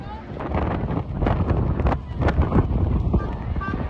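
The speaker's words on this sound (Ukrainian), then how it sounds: "всіх просто вітром зносив" Strong gusting wind buffets the microphone at a peace rally in central London during a storm warning, a steady loud roar throughout with crowd voices underneath.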